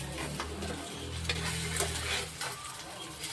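Puffed rice vadas frying in a pan of oil, turned over one by one, give a steady soft sizzle with light scraping and stirring sounds, close and continuous.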